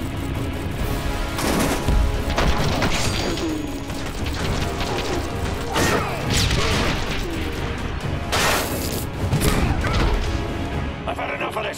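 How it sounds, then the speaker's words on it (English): Rapid gunfire bursts crackle in a Batman cartoon battle, loud and sustained with several sharp volleys over busy action effects and occasional shouted voices. "Open fire!"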